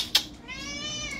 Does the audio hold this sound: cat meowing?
yes